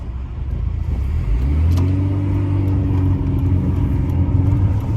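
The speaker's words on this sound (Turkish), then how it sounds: "Şöyle marşa basmış olduk." A BMW 316i engine cranks and catches, rising to a loud, steady idle hum with a low rumble that settles and holds close by, no talking over it.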